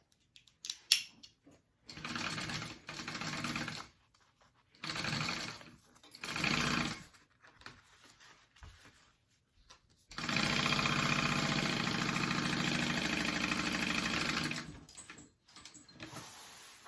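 A sewing machine stitches the side seams of a handbag's zipper panel in several loud, close bursts of rapid motor whir, separated by pauses, with one long run near the end.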